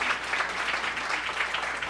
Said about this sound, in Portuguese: Mestre Marola, por favor, queiram dar uma salva de palmas para o Mestre Marola.